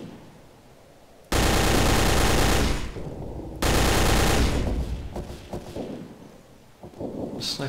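Sustained machine gun fire in the World War II shooter Day of Defeat: Source roars in two long, dense bursts, loud and close, each trailing off into a rumbling echo.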